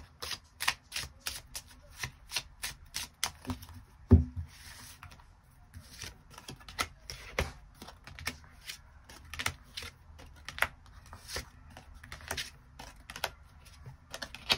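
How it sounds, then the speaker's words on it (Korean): Close, crisp tarot cards being shuffled and drawn, a quick rhythmic series of sharp flicks and slaps with a brief louder knock partway through, no talk. "8번 분들 추가 카드로 일별로 월요일부터 일요일까지 어떤 하루를 보내게 될지 추가 카드 뽑아보도록 하겠습니다."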